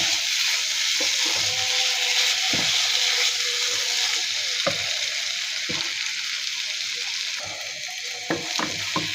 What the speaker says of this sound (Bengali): এখন দিয়ে দেবো অনেকটা পরিমাণে ধনিয়া পাতা কুচি। নেড়ে চেড়ে মিশিয়ে নিব।